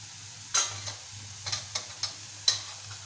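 Onion and turmeric sautéing in oil in a pan for a Malvani drumstick and potato bhaji: a soft, low sizzle runs beneath a handful of sharp spatula scrapes and taps against the pan, clustered irregularly.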